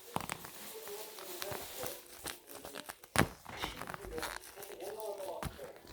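A paper squishy toy pulled from a random box is handled up close, giving soft crinkling and crumpling rustles in quick irregular bursts, with a quiet voice faintly underneath.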